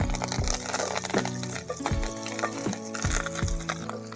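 Curry leaves fry in hot coconut oil in a pan, giving a steady close sizzle broken by sharp crackling pops, with no talking.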